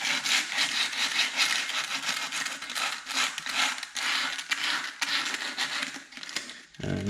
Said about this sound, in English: So I'm just like kind of hovering over it and just going over it like that.